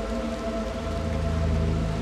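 Rain falling in the video game Little Nightmares 2, a steady, even hiss of rainfall with a low hum underneath, continuous and fairly loud through a short stretch.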